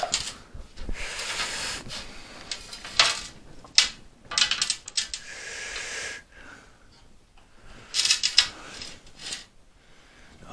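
A glass cutter scoring glass makes a few short, bright hissing scrapes, each followed by a crisp snap, with quiet pauses between them, close up.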